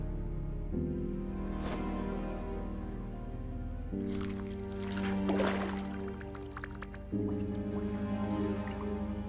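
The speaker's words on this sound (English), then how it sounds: "I have to place the lungs in a container of water and wait to see if they fall" In the video game Autopsy Simulator, lungs are lowered into a container of water, giving wet squishes and drips over a steady droning background tone.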